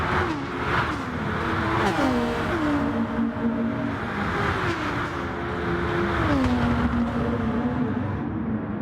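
Race car engines from a racing video game roar along the back straight at Spa, a steady loud drone with the pitch climbing and dropping through repeated gear shifts.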